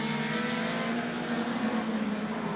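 Short track race cars circling a tight oval at a competition, a faint, continuous engine roar at a distance with a steady droning tone and no distinct pass-bys.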